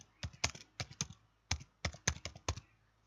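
Keys tapped on a laptop keyboard while typing a WhatsApp Web status, a quiet close run of irregular clicks in two short bursts with a brief pause between, alone without speech.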